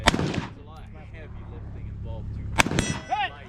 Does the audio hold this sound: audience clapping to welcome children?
no